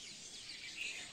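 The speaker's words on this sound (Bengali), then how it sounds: "আর আশেপাশে পরিবেশের পাখির ডাক শুনতে পাচ্ছ, কি দারুণ লাগছে তাই না?" Birds call faintly around a rooftop flower garden, thin high chirps and a brief brighter tweet standing over a quiet outdoor hush.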